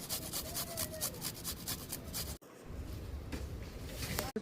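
Ginger rasped against a hand grater in quick, steady scraping strokes, close and soft, with a short pause before the rubbing resumes.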